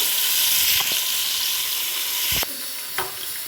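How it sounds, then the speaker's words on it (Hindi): Sliced onion sizzles in hot oil in a pan, cooking until light brown for mutton biryani, a loud steady hiss broken by a couple of stirring scrapes, softening slightly partway through. "इसको मैं हल्का सा करूँगी ब्राउन"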